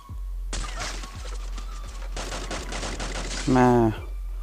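Rapid bursts of gunfire from the video game Free Fire crackle almost continuously for about three seconds, loud and close, then a short tonal electronic sound follows before the shots cut off.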